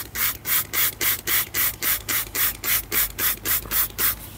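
A brush scrubs a painted, varnished wheel rim coated with rim cleaner in a steady rhythm of about a dozen close, even back-and-forth strokes, each a soft hissing rub.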